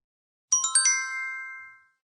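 A bright cluster of quick chime tones rings out once from silence, then fades away over about a second.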